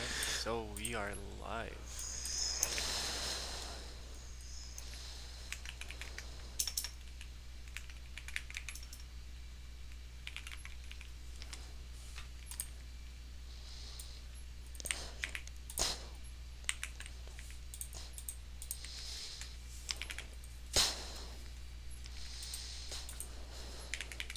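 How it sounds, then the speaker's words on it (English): Typing on a computer keyboard, a scattering of quick key clicks and taps, close but fairly quiet, bursts spread irregularly over a steady low hum. "Oh, I can hear my keyboard."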